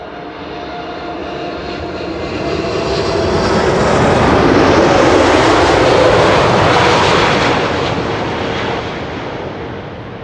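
A Turkish Airlines Airbus A350 comes in to land on runway 36 right at Schiphol, its jet roar rising steadily, peaking loud and close at the midpoint, then fading as it passes.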